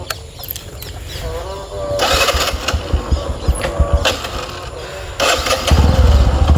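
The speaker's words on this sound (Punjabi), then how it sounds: "ਹੁਣ ਚੱਲਦੇ ਆਪਾਂ ਮੋਟਰਸਾਈਕਲ ਕਰੀਏ ਸਟਾਰਟ" A motorcycle engine is kicked over and catches, starting with a few sputtering bursts before settling into a loud, rumbling idle close by.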